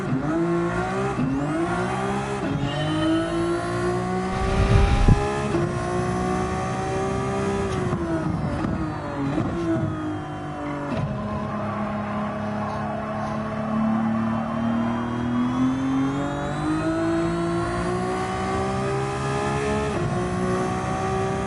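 A race car engine in Gran Turismo 7 revs and whines continuously, pitch climbing and dropping through gear shifts, with a short burst of tire noise partway through.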